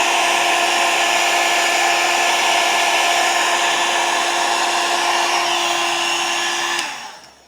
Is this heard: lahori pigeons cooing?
no